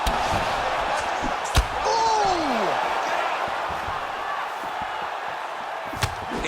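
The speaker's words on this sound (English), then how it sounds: "you hear the crowd react every time they come together because they understand the power that these guys are striking with" Arena crowd noise at a UFC fight, a constant murmur with a rising whoop of reaction and sharp impact slaps from fighters' strikes cutting through, with commentary voices under the din.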